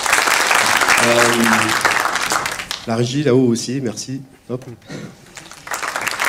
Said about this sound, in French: Oula, vous pouvez les applaudir.